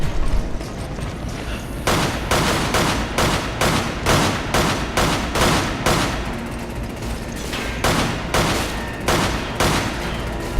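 Rapid gunfire rings out in Resident Evil 5, a steady run of loud, evenly spaced shots lasting several seconds with no voices over it.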